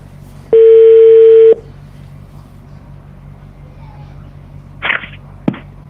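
A telephone places a call: one steady electronic tone lasts about a second against a quiet background, followed by a few brief clicks.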